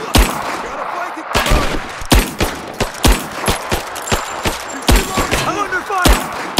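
Rise of the Tomb Raider combat gunfire crackles in sharp repeated bursts and single loud shots, with game voices calling out amid the shooting.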